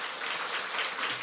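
A church congregation applauds together, a dense, even patter of many hands clapping at close range, filling the brief moment without pause.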